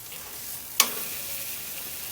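Fish frying in a pan set over an outdoor barbecue, with a moderate steady sizzle and one sharp metallic clink partway through.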